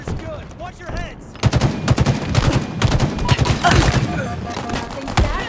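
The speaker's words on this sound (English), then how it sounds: "Nothing satisfies like a three-round burst." Three-round burst rifle fire in a Halo Infinite multiplayer match, repeated sharp bursts in quick succession over continuous battle noise and game effects, loud and close.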